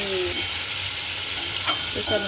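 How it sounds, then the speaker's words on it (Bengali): Bitter gourd and potato pieces sizzle steadily in hot oil in a home kitchen pan, with a few scraping stirs and light clinks over the constant frying hiss. "দেখো উচ্ছে আলু ভাজা করছে মা"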